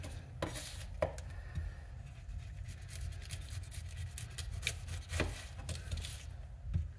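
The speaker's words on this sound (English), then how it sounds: "If I just work my way around, again, following the contour, the shape of the curve of the pineapple" A knife works around the curve of a pineapple, giving soft scraping cuts and occasional light taps on the board, close and quiet, with irregular strokes spread through the stretch and no voices.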